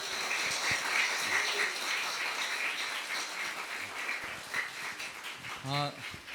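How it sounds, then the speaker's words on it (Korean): A church congregation applauds together during an Easter Sunday joint service, a dense, continuous patter of clapping with some voices mixed in. "우리 박수 한번 같이 하겠습니다."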